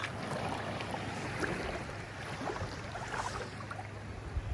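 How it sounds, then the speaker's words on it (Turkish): Gentle waves washing at Whitehaven Beach, Australia, where the water is clear and turquoise; a soft, steady surf hiss continues without pause, with no voices. "Huzur dolu sadece dalgalar."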